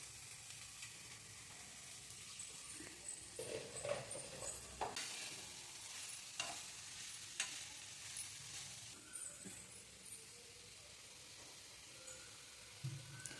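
Greens stirred into a sizzling pan for a North Karnataka-style palya, with a steady close fry hiss broken by scraping stir strokes and small clatters throughout.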